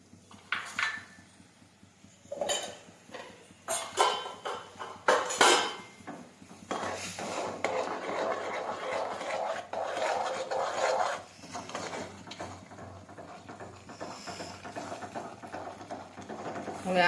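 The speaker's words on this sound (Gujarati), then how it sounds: "હવે આ રીતના આપણે ચમચો છે તે ફેરવતા જશું." A spoon scraping and clinking against a pan while stirring a sugar and chickpea flour mixture, with irregular rasping strokes and sharp metallic knocks, close and fairly quiet, with occasional faint talk.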